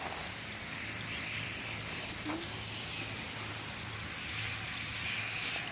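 Water gushes steadily from a 1.5 horsepower pump motor outlet, a constant splashing pour with a low mechanical hum underneath.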